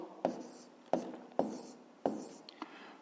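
Pen writing by hand on paper during a fifth-grade maths exercise, four distinct scratchy strokes at a steady pace, with a couple of lighter taps near the end, close and alone.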